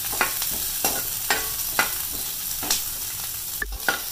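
Green chillies, grated carrot and capsicum sizzling in a little hot oil, steady frying hiss with regular spatula stirs scraping the pan about every half second, close and clear.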